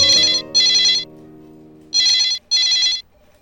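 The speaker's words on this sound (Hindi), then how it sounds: "मैडम सर आपके लिए फोन है।" A telephone rings at a police station, with two pairs of loud electronic double rings separated by a pause, close and clear, with a steady low hum fading underneath.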